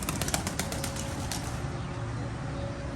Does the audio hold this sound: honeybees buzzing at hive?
no